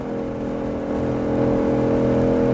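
A 2020 Shelby GT500 on the Nelson Ledges Raceway track, its engine holding a loud steady roar that swells slightly louder as the throttle opens, close up and without talk.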